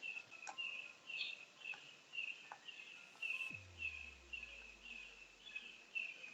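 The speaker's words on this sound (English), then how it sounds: "There's a noisy bird." A noisy bird calls repeatedly outdoors, a rhythmic series of sharp, high chirps at moderate distance, with a brief low thump partway through.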